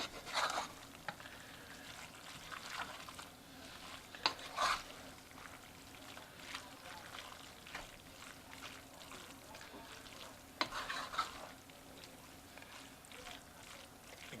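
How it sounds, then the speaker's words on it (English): Egg noodles stirred through Cajun crawfish pasta in a pot, giving soft wet scraping and sloshing with a few sharper utensil clinks, close and fairly quiet throughout. "Now we're just going to kind of mix this all together"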